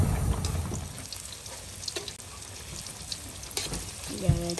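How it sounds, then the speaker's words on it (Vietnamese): Tofu fries in a pan for a vegetarian Vietnamese meal, a steady close-up sizzle with occasional clinks and stirring scrapes of the utensil, and a brief faint voice near the end. "chiên tàu hũ để chút xíu nữa mình làm gỏi. Chiên cho vàng lên."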